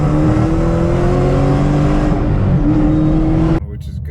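A tuned Shelby GT500 engine pulls hard under acceleration while driving, a loud, steady, rising drone that lasts several seconds and then drops off abruptly.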